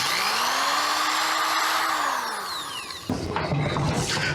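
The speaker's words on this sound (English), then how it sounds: "Drill those holes." Power drill boring screw holes into a blaster grip, a loud whining motor that rises and falls in pitch for a few seconds before cutting off into scraping handling noise.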